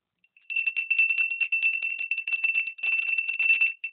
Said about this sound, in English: He heard bells ringing.